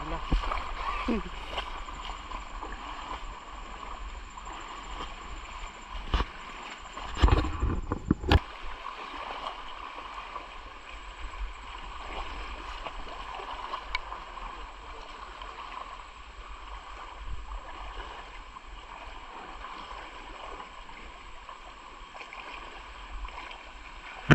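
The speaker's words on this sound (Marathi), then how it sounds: "पाण्याचा प्रवाह ना खूप जास्त आहे" Strong river current rushing steadily in a broad, continuous wash of water noise, with a brief louder splash and faint voices over it.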